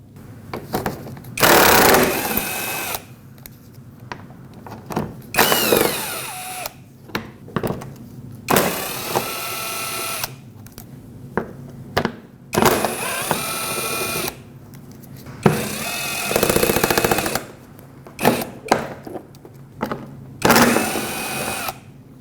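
A power driver whirs in repeated short bursts as 10mm bolts are backed out of a plastic underbody panel on a Nissan Frontier, each run a few seconds long with pauses between, close and fairly loud.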